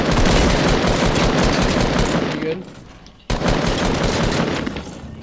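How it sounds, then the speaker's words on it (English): Pump shotgun shots in the Fortnite video game sound as dense, loud, close gunfire in sustained bursts, with a brief drop before the shooting resumes abruptly. "How did that pump shot miss?"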